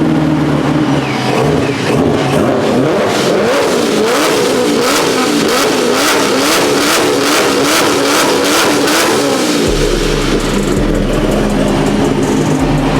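A Chevrolet Corvette engine runs loud and close, revving repeatedly in rising and falling surges, then settling into a rough, deep idle near the end.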